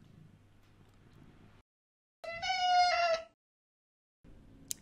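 A house cat gives a single clear, drawn-out meow in a quiet indoor room, close and fairly loud, framed by brief low background noise.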